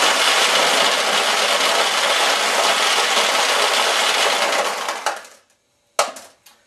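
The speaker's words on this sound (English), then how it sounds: "we'll go ahead and release the balls here" Inside a Nishijin pachinko machine, a flood of metal balls rushes and rattles loudly and continuously for about five seconds before dying away, followed by a short second clatter of balls.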